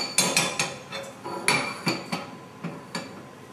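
A utensil scrapes and taps against a pan as sugar is stirred on a stove over medium heat to caramelize, giving a series of sharp, fairly even metallic clinks, moderately quiet with no talking.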